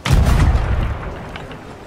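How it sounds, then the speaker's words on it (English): A ship cannon fires in the pirate game Sea of Thieves, one loud deep boom at the start that rolls off into a fading rumble, with no talk. "It'd be a shame if I got this cannon and accidentally shot their ship."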